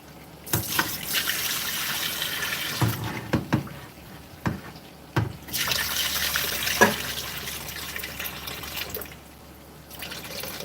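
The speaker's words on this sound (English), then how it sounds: "I'm going to go ahead and give these another wash and rinse" Items are washed and rinsed in a kitchen sink under a running tap, with bursts of gushing water broken by brief pauses, clattering knocks and drips, moderately close.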